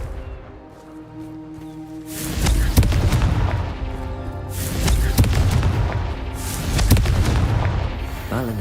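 Confringo explosive spell cast in Hogwarts Legacy, a swelling fiery blast with heavy booms and crackling debris, loud and close, followed by a second burst over a sustained musical game backdrop.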